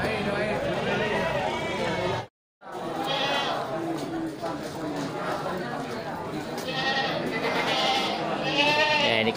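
A male goat bleats several times at a busy livestock market, the calls rising over constant crowd chatter and people talking nearby.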